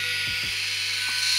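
An electric foot file for removing calluses switches on and runs with a steady, even high-pitched whir, close and alone, with a couple of brief low knocks near the start.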